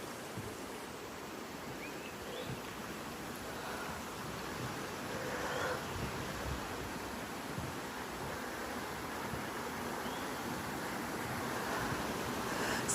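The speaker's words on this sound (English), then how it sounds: "Oh, it's got its own little waterfalls." Small waterfalls trickling in Nursery Ravine at Kirstenbosch Garden, a steady, close rushing of water that fills the whole stretch alone and swells slightly toward the end.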